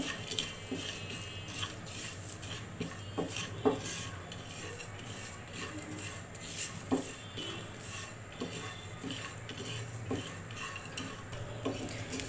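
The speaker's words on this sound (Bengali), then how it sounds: "এখন এগুলোকে একটু শুকনো খোলায় ভেজে নিচ্ছি" Cumin and other spices are dry-roasted in a hot pan and stirred, making quiet scraping and rubbing strokes of a utensil against the metal with a faint crackle, close and without talking.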